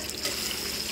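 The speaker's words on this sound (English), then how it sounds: "Then we're gonna add water in." Water pours from a tap into a pot of sausage and cannellini beans, a brief steady rushing splash, close and fairly loud, with no speech.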